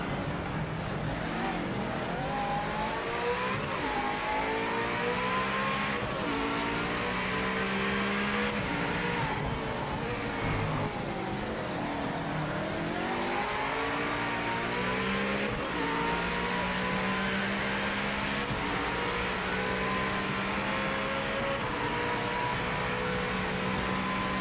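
A race car engine roars continuously in the Project Motor Racing video game, revving up and down through gear changes with a steady, loud, close-up tone and occasional tire noise.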